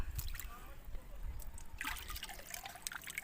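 Homemade liquid fertilizer trickles and splashes as it is poured onto garden plants, a soft continuous watery dribble close by, with a brief louder splashing burst partway through.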